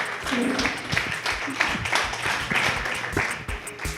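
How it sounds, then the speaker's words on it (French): Applause from the audience at a live podcast recording at the FestiPod festival: scattered, moderately loud clapping that continues throughout, mixed with voices and shouts from the room. "On applaudit tout le monde!"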